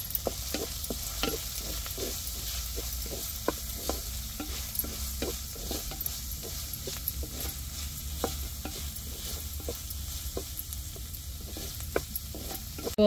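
Goat liver with turmeric being stir-fried in a pan, a constant sizzle punctuated by frequent sharp scraping and clinking strokes of the spatula in a loose rhythm, with no talking.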